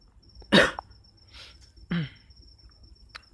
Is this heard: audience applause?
no